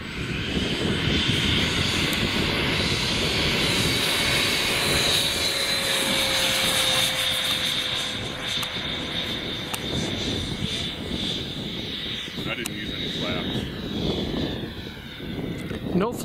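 A Freewing F-5 RC jet takes off without flaps, its turbine whine loud and close at first and then steadily fading with distance, over wind and outdoor background noise.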